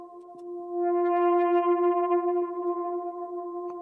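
Synth or orchestral downtempo tone washed in reverb with overdrive distortion added after it, giving a crunchy, sustained harmonic drone that swells and holds, with a brief click near the end.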